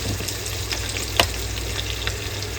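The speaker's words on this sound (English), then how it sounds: "Then you just stir it together." Heavy cream being stirred in a pan for chicken pesto sun-dried tomato bow tie pasta, a steady close sizzle with soft spoon scrapes and one brief sharp clink.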